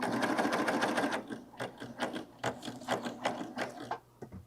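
A Baby Lock serger runs a test seam: a steady, dense mechanical whir for about a second, then stops and gives short stop-start stitching bursts and clicks, close and clear.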